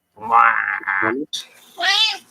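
A house cat gives a run of odd, trilling chirps and meow-like calls, close and loud, in three short bursts with brief pauses between them.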